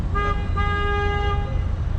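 Car horns honking in Lisbon street traffic: two close, loud toots with a brief gap between them, a longer blare following, over a low traffic rumble.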